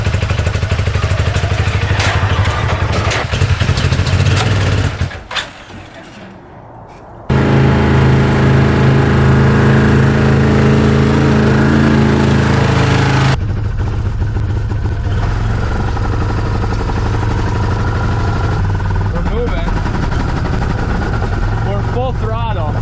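A UTV engine with a misfiring front cylinder runs loud and close, bogging with little power and a rough, uneven idle; the noise briefly drops away midway before resuming as a steady rumble.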